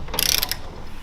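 Torque wrench tightening a main bearing cap on a 2JZ engine, a short close metallic ratcheting click burst of a few rapid clicks over a low background hum.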